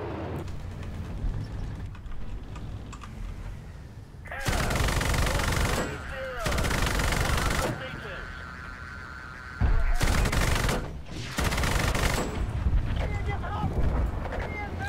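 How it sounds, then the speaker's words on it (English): An SPAA vehicle, the Gepard or Ozelot, fires autocannon rounds and a missile in a video game: loud sustained bursts of rapid cannon fire come in several separate blocks, over a windy engine rumble, alone without talk. "I was getting kind of worried that my rounds weren't hitting, so I just fired a missile."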